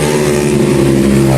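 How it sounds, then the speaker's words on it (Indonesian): A noisy motorcycle passes close by outdoors, its loud, rough engine droning steadily through the short moment without any voices. "Ada motor lewat berisik."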